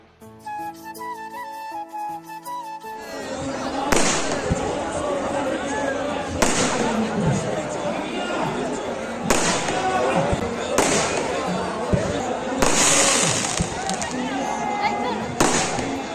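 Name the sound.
New Year fireworks bursting after midnight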